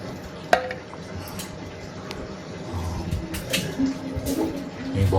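Garlic and onions frying in a pan, a soft continuous sizzle with a sharp clink of a utensil early on and stirring scrapes, fairly close.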